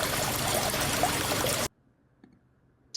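Running water for washing a face gushes as a steady, loud, close hiss for under two seconds, then cuts off abruptly into near silence.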